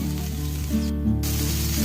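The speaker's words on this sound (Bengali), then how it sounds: "আমি একটু হালকা করে কিন্তু একটু ভেজে নিচ্ছি।" Green peas lightly frying in a pan give off a steady, soft sizzle that holds at an even level for the whole short stretch, with no voices.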